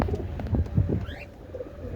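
Pigeons of several breeds coo close by in short, soft, low throaty bursts, with a faint chirp among them.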